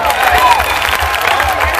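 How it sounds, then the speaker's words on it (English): A festival crowd at the main stage of Rifflandia 2013 in Victoria, BC claps and cheers in a broad, steady roar with no break from start to finish. "Give yourselves a round of applause."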